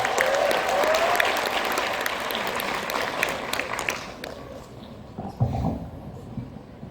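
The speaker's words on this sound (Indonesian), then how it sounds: "tepuk tangan dong teman-teman semua" A music event audience claps for a band being called up at a conference gathering. Dense, steady applause runs for about four seconds, then thins out to scattered claps and background murmur.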